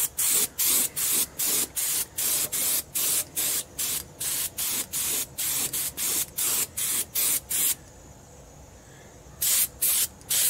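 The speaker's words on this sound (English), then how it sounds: "about 40 pounds of air pressure in my air gun" An air gun sprays a light brown finish at about 40 psi in short, rhythmic bursts, test-sprayed onto white paper during the refinish of a flood-damaged mandolin; the loud hissing blasts repeat steadily, with a longer, softer spray near the end.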